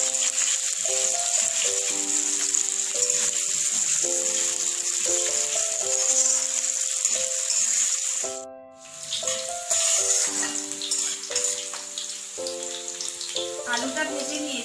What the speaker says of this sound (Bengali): মিডিয়াম আঁচে আলুটা ভেজে নেবো